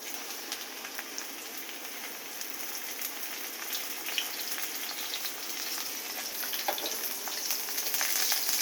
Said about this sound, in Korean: 이제 연기가 나고 있으니까 여기에 이제 버섯을 먼저 넣어줄게요